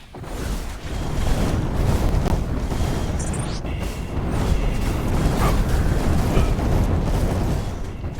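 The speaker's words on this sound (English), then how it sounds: "the noise of the orange orbs, they sound like a flamethrower." Orange orbs in the video game Heroes of Hammerwatch 2 give off a continuous, loud roaring rush like a flamethrower, sustained for the whole stretch with slight surges and no break.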